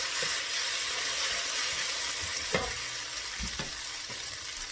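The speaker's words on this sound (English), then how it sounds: "Let your noodles fry up a little bit. The oil will help separate them a bit." Noodles frying in oil in a pan, a continuous bright sizzle with occasional stirring clatters and scrapes, close and unbroken, no talking.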